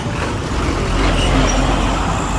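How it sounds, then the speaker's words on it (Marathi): A truck rumbling near in busy street traffic in Madurai, a loud, dense, steady engine roar throughout. "ट्रक येतोय."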